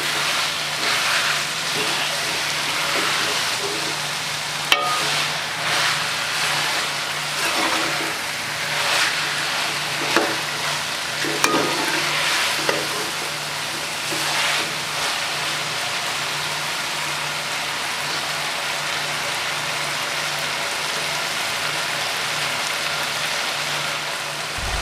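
Potatoes and capsicum fry in a pan with a steady, dense hiss of sizzling oil that lasts throughout, broken by a few clinks from stirring.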